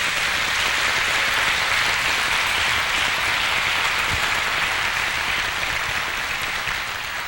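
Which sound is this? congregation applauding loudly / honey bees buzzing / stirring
congregation applauding loudly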